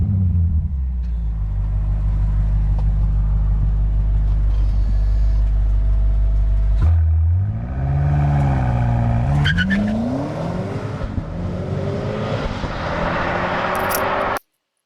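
Inside the cabin of a 2025 BMW M5 G90, the engine drones as a deep, steady rumble, then briefly dips before the revs climb again with rising and falling tones and a muted exhaust note.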